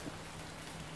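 Steady soft rain patters outside a parked Ford Tempo, a quiet continuous hiss of drops on the surface with no talk.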